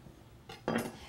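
A knife cuts into a white raspberry cake on a plate, giving a short faint scrape followed by a louder crunching contact with the plate beneath, close and alone.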